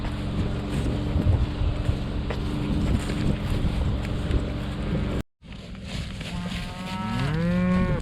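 Cattle in a spring pasture moo amid steady wind and outdoor rumble, with a sharp cut midway and a long, loud low moo rising close by toward the end.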